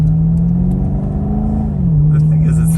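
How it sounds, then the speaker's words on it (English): A Maserati Quattroporte GTS with 32,000 on the clock hums under load, its engine note holding steady then dropping in pitch as it shifts, close and continuous beneath the cabin noise. "behind the wheel of Art's Maserati Quattroporte, and I must admit I am quite intimidated because this is an expensive car"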